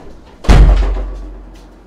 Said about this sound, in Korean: 문 닫아볼게.